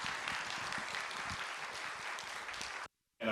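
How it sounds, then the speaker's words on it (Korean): A church congregation claps steadily to welcome a saxophone-playing missionary at a retreat. The dense, even applause is cut off abruptly into a brief silence near the end. "우리 박수로 모시겠습니다"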